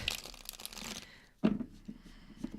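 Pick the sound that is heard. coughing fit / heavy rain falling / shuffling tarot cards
shuffling tarot cards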